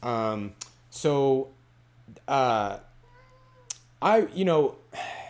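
A house cat meows close by, giving several drawn-out cries that alternate with short pauses, and there is a steady low hum underneath.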